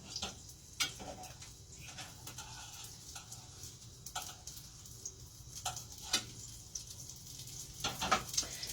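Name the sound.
Navajo fry bread frying in hot oil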